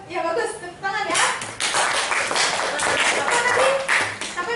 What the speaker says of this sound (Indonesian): Oke, ya bagus. Tepuk tangan ya.